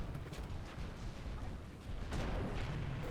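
Rocket launcher fire strikes a Scarab in Halo 3, heavy booms and rumbling explosions mixed into a dense, noisy battle wash.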